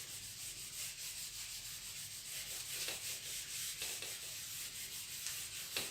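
A board is rubbed clean in a classroom with steady back-and-forth swishing strokes, close and quiet, with no talking over it.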